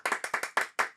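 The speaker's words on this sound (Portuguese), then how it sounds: "Então, por favor, palmas para Rafael Coca." A studio audience on a Brazilian talk show claps for a guest, a quick burst of close, crisp handclaps in an uneven rhythm with no talking.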